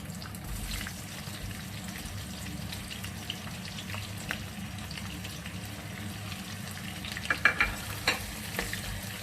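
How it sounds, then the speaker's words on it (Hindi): Onions frying in hot oil for a mutton and vegetable dish give a steady, moderate sizzle throughout, with a few louder stirring scrapes near the end. "और अब ये तेल जो है वो ठीक गर्म हो चुका है। इसमें हम ये डाल देते हैं प्याज"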